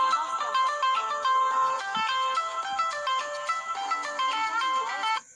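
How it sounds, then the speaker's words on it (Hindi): A mobile phone ringtone plays on an incoming call, a bright repeating melodic tune sounding alone and steadily for about five seconds before cutting off. "देखंतु एबे गोटे रिंगटोन टा बाजिला।"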